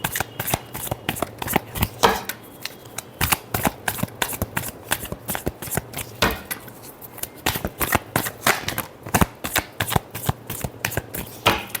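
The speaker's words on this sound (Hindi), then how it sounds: "last shuffle" Tarot cards are being shuffled up close in a long run of rapid, crisp riffling bursts, with brief pauses between handfuls and no talking.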